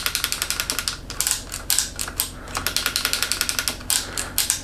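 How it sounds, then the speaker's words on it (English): A rescued Trek bicycle's freshly lubricated derailleur shifter clicks through the gears, a rapid series of sharp, close mechanical ticks and ratcheting snaps with short pauses between bursts. "This derailleur has a nice strong spring. The shifter is working well now that we sprayed it."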